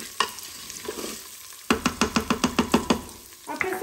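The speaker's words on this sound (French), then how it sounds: "je mélange bien mes pois cassés avec les gousses d'ail et j'imbibe chaque pois cassé d'huile d'olive" A spoon stirs split peas with garlic cloves and olive oil in a pot, making a run of about nine quick, evenly spaced scraping strokes near the middle, with softer mixing before and after.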